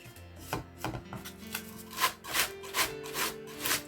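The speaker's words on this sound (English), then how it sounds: "I'm just going to sand the edges off" Sandpaper of unknown grit rubs the edges of a dry craft piece for an Easter bunny project, making a series of short scratchy strokes up close, quiet, with no talk.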